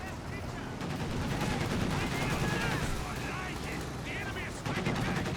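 Sustained bursts of MG42 machine gun fire in a Company of Heroes 2 battle, rapid and continuous rattling mixed with other gunfire and battlefield noise, with a commentator talking over it.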